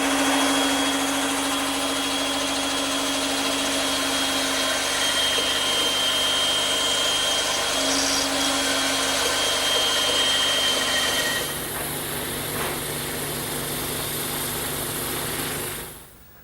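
A power saw cuts a curve in a wooden piece for an English garden bench, a steady high whining motor drone with a faint tonal hum that drops in level near the end and then cuts off.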